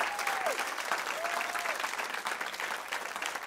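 Congregation applauding during an evening church service, steady dense clapping filling the space throughout, with a faint sustained sung or spoken tone rising above it now and then.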